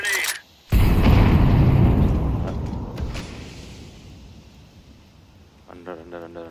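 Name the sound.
grenade explosion in a Counter-Strike video game match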